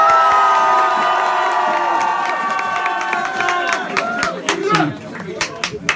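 A crowd at a rap battle cheers, shouts and whoops loudly for a contestant, with voices swelling together, then scattered sharp claps as the noise thins.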